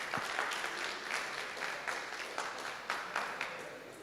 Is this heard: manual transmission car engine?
no